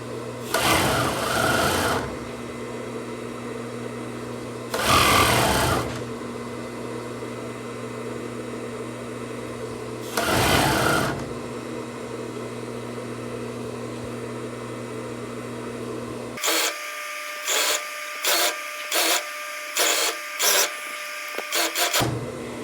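A sewing machine stitches the hem of a women's long-sleeve pajama, running in three separate bursts of steady whirring, then a rapid series of short stop-start runs near the end, close and loud with no talk.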